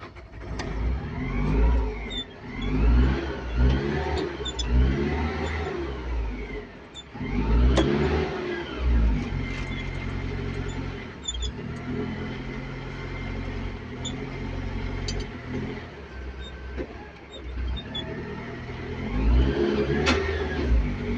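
A CAT 580 telehandler engine with a power fault runs unevenly, surging and sagging over and over as revs climb and fall away, steady and close with no talk.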